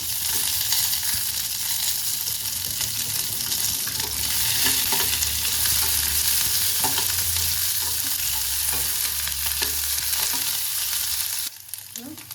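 Small onions fry in a pan for moringa leaf chutney, a loud continuous sizzle with stirring scrapes, close up, which drops off abruptly at the end.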